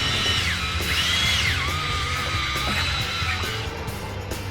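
A handheld drill fitted with an eraser wheel strips adhesive from truck trim, its high whine rising and falling steadily as the wheel loads and frees up, loud and continuous close by.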